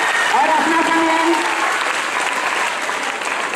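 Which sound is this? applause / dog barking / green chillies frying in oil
applause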